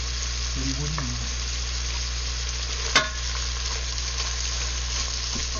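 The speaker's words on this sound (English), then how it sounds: "So we'll let that saute until the onions become translucent." Onion and carrot sautéing in a pot for pasta fagioli, a steady low sizzle throughout with a single sharp knock of a utensil midway.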